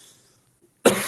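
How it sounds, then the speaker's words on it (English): A single sharp, loud cough bursts out after near silence, close and sudden. "sorry, I have to cough."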